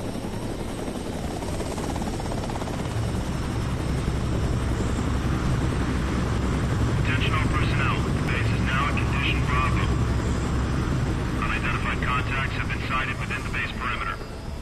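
A jet aircraft engine in the video game Tom Clancy's H.A.W.X. 2 roars as a steady, loud drone throughout, while radio voices speak over it in the second half.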